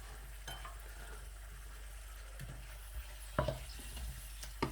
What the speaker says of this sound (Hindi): दूसरे आलू जो हैं वो ऐड करके फ्राई करूँगा